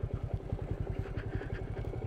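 A Royal Enfield Meteor 350 motorcycle idles close by on an off-road trail, its single-cylinder engine thumping in a steady, even rhythm for a couple of seconds, no talk.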